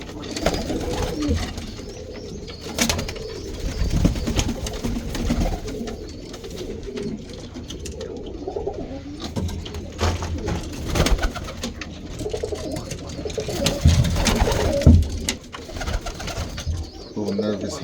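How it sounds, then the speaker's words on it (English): Roller pigeons, including solid black Irish birds, cooing in a loft or yard, soft low calls repeating throughout under occasional nearby talk and handling noise. "These are my Irish birds."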